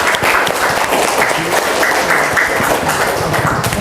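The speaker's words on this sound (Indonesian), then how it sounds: "beri tepuk tangan untuk kita semua" Classroom applause from a group of students after a colour-naming exercise, a steady dense patter of many hands clapping together, close and loud, with faint voices mixed in.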